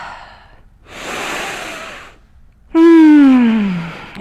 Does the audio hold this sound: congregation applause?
no